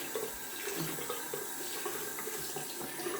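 A tap runs steadily for a cold water shave at a sink, a close, continuous splash and gush of water with no voices.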